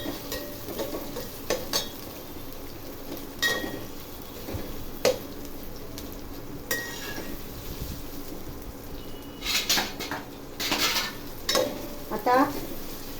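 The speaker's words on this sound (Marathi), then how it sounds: "थोडा कढीपत्ता झाला की त्यावर लगेच आपण कांदा टाकूया।" Sliced onions frying in hot tempering oil with curry leaves for soybean rice, a steady sizzle under repeated clinks and scrapes of stirring against the pan.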